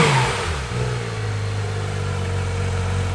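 A Porsche 911 GT3 RS (991.2) engine revs and settles into a rumbling, fairly loud idle, heard up close with no talking.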